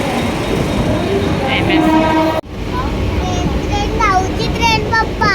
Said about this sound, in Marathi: निघालो आहे, ट्रेनने चाललो.